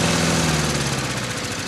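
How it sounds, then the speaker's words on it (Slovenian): A lawn mower engine chugs loudly with a rough, uneven rhythm, its droning tone wavering and breaking up partway through as it sputters toward stalling, with no voices. "Angelu Manuelu je v trenutku crknila kosilnica."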